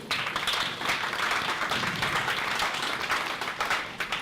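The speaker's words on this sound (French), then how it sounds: "Applaudissez!" An audience at a live stage show bursts into sustained applause, dense and continuous clapping filling the space for several seconds without pause.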